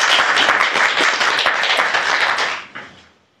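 Warm audience applause for a speaker in a lecture room, dense close clapping from many hands that holds steady, then tails off quickly to silence near the end.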